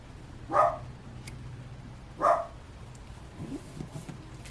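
Two sharp dog barks spaced apart, heard from a moderate distance over a quiet background hum, followed by faint muffled noises.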